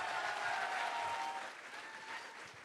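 Audience applause after a quiz game during a history talk show event, a steady dense wash of clapping that holds for a few seconds and eases slightly toward the end, with no voices over it.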